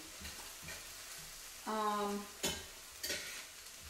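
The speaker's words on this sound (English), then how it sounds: "let's check our onions and peppers. And we've got those frying up nicely." Steady sizzling of onions and peppers frying in a hot pan, with a spatula stirring and scraping a few times; no voices.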